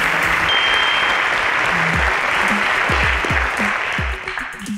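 Applause from a school quiz-show audience at a Nigerian inter-school championship, a steady dense clatter of many hands that carries on for several seconds before tapering off at the end.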